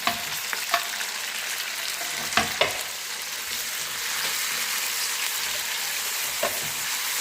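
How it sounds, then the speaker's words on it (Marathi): Chopped onion and tomato fry over a high flame with a continuous, even sizzle, broken by several sharp clinks and scrapes of a spatula stirring the pan. "कांदा आणि टोमॅटो चांगला भाजू द्यायचं।"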